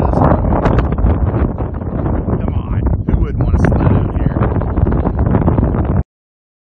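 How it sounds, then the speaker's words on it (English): Strong wind buffets the microphone in a steady, loud roar throughout, with people talking over it, at White Sands in the desert. "It was freaking windy that day. It was really, really windy."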